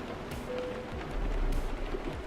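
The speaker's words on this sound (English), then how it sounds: "we're with this beautiful rain sound" Soft rain patters steadily in a truck driving video game, faint and continuous with a low rumbling undertone and occasional brief splashes.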